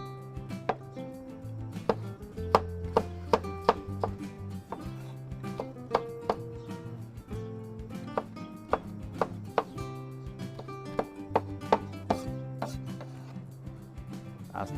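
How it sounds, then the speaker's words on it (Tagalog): A knife chops tomatoes finely on a cutting board, with sharp, close, rhythmic knocks coming in quick bursts and short pauses, alone without talk. "Gaya tayong kamatis. Liitan natin ang gayat."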